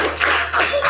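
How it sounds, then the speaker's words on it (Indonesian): A school class claps for a student group in a classroom: a brief, continuous burst of clapping lasting about a second. "tepuk tangan untuk kelompok 4"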